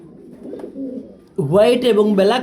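Lahori pigeons, a white and black pair, coo close by with low, throaty warbling calls, a softer murmur first, then a louder rolling coo.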